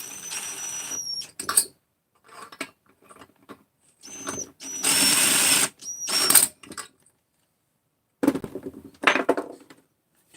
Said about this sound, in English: Just want to get 2 screws down